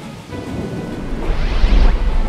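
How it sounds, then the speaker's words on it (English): Rain patters steadily while a deep roll of thunder builds and rumbles loudly toward the end. "Noah, look there, it's raining."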